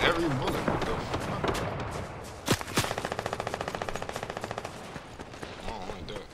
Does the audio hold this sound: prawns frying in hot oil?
no